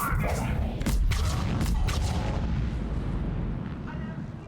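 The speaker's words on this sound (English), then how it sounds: "That was a double explosion." Double explosion in the video game Mass Effect 3 (Legendary Edition), heard as a loud, close burst of booming blasts with crackling debris that rumbles on and slowly fades, with no talk over it.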